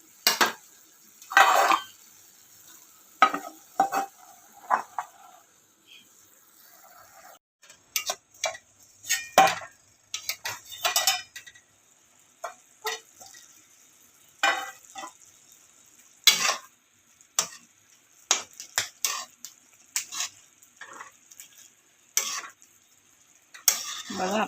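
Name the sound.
vegetable curry stir-frying in a pan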